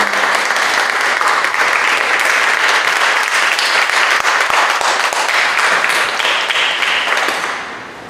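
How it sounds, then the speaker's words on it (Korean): Loud, sustained applause from a congregation at a Korean church revival prayer meeting, dense continuous clapping that holds steady and fades out at the end. "큰 박수로"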